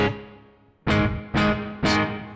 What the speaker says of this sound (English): really short reverb.